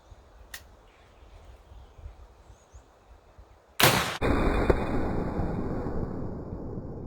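Muzzle loader gun fired outdoors, one sharp loud blast near the middle followed by a lingering roar of smoke and echo, after a quiet stretch with a faint tick early on.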